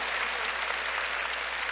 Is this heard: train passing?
no